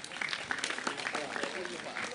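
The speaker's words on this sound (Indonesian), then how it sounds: "Sekali lagi tepuk tangan untuk Mbak Ulfa" Applause for Mbak Ulfa at a Maiyah gathering, a dense spread of clapping from a seated audience that keeps up steadily at moderate volume with voices murmuring through it.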